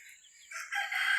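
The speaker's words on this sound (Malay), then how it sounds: "Ni ayam-ayam ni." A rooster crows outdoors among village chickens, a single rising, clear call at moderate distance, heard alone without talk.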